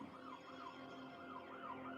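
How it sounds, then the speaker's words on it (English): A police car siren wails in a steady rising-and-falling pattern through the whole stretch, moderately loud and continuous, with no talking over it. "The officer hits his siren and his lights on us."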